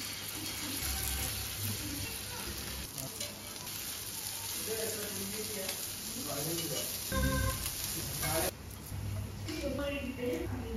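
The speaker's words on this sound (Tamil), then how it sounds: "சரி, இதை மட்டும் ஃப்ரை பண்ணி எடுத்துலாமேன்னு ஃப்ரை பண்ண ஸ்டார்ட் பண்ணிட்டேன்" Cleaned fish frying in a pan at home: steady, close sizzling and spattering oil throughout, with utensil clinks and someone talking over it.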